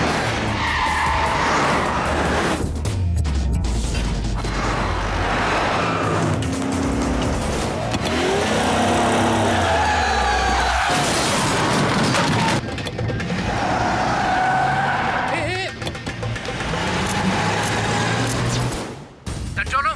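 In a movie chase scene, a car that has run a signal tears away with loud, continuous engine roar and screeching, skidding tires, its rumble swelling and fading over twenty seconds.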